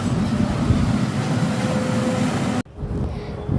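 A Vande Bharat train at a railway station, apparently in Trivandrum, makes a loud, steady broadband rumble that cuts off abruptly near the end, leaving a quieter hum.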